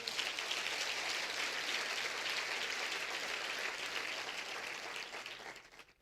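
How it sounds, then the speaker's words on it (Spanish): A church congregation claps together in sustained, dense applause that holds steady for several seconds, then tapers off at the end. "Dale un aplauso al Señor."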